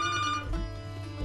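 A telephone rings during a Balochi-language radio call-in show on Radio Turbat: a brief, faint electronic ring tone that fades into low background rumble.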